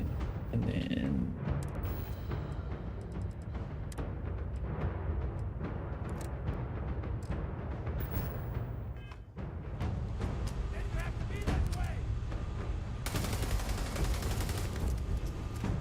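A heavy ship-mounted big gun fires in sustained volleys during a Starfield space battle against the Crimson Fleet, dense booming gunfire running throughout under layered game effects and occasional voice.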